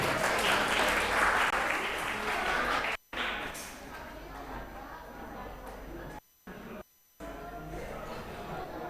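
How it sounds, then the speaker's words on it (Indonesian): Applause from an audience at a communication-skills training session, loud and sustained for most of the stretch, broken by a few brief gaps, with a voice speaking over it. "Oke, tepuk tangan sekali lagi."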